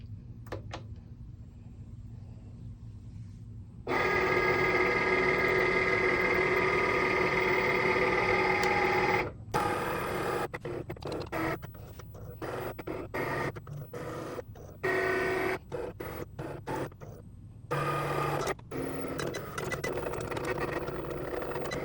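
A Cricut cutting machine cutting a sticker sheet on the light cardstock setting: a steady motor whir that starts abruptly, then stop-start bursts of carriage movement with short pauses, close and moderately loud, no talking.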